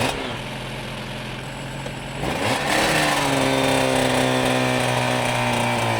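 A Suzuki RG motorcycle engine runs with a steady throb as the clutch engages partway through. The tone shifts and rises into a stronger, smoother note, with clattering mechanical texture, close and loud.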